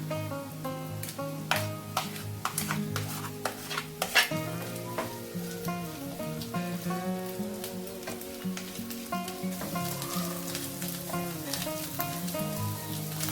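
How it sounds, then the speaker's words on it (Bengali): A fish-roe mixture with boiled potato fries in a pan, a steady sizzle broken by frequent sharp scrapes and taps of a stirring spoon, over a background of continuous tonal music; no one speaks. "এটা আমার পুরোপুরি কষানো হয়ে গেছে"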